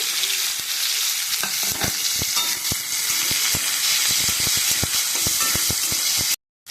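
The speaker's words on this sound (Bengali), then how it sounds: "দেখুন, কড়াইতে আমি তেল দিয়ে দিয়েছি। তেলটা গরম হয়ে গেছে। দিয়ে দেবো পেঁয়াজ কুচানো, টমেটো কুচানো," Chopped onion and tomato fry in hot oil in a kadai, with a steady, dense sizzle up close and scattered clicks of stirring, ending abruptly in brief silence.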